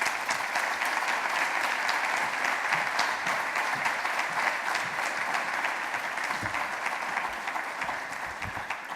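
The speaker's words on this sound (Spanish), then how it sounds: "les pido recibirla con un muy fuerte aplauso" Sustained applause from a conference audience welcoming the ECLAC executive secretary at an open data event on Latin American development, a dense even wash of clapping that holds steady throughout.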